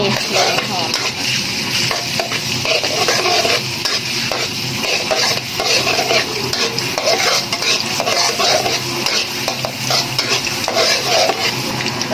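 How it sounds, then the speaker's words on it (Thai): Garlic sizzles in hot oil in a pan, a loud continuous frying hiss with scraping stirring and occasional clinks of a utensil against the pan, close up and without talk. "น้ำมันแล้วก็ใส่กระเทียมเลย เจียวกระเทียมให้"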